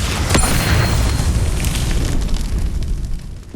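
A Confringo fire spell bursts with a heavy, booming blast in the Hogwarts Legacy video game, a loud low rumble that rolls on and slowly fades over several seconds, with no voices over it.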